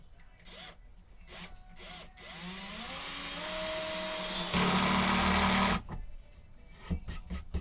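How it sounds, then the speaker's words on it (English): Power screwdriver driving screws into wood while building a cold frame for plants in a woodshop: short whirring bursts start and stop, then a long steady drive that rises in pitch and ends abruptly, followed by brief clicks. "I will go through and tighten all these screws up with the screwdriver."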